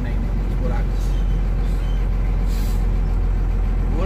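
A truck on the BR316 highway rumbling through potholes, a heavy low engine drone with thuds and a hiss like an air brake, loud and near, with people talking over it.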